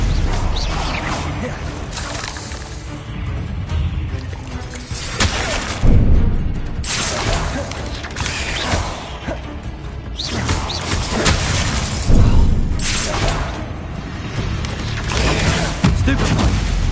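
Blasting Bombarda spell explosions in Hogwarts Legacy on Hard difficulty, a steady roar of loud booms and crashing impacts over a dense, continuous din with repeated heavier hits throughout.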